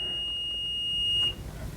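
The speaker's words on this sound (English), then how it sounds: "If I touch these two together, I'm gonna get a beep." A Fluke multimeter gives its continuity beep as the two probes touch, a steady high electronic tone held for just over a second before cutting off, loud and close with no talk.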